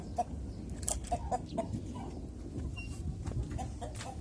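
Faint clucking of chickens, turkey poults and a rooster with a few sharp squawks scattered over a low rumbling background, distant and intermittent, as poultry are herded in before a thunderstorm.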